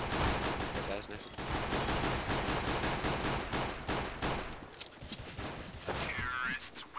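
Rapid bursts of gunfire in the video game CS:GO on Dust II, dense overlapping shots continuing for several seconds with voices talking over them.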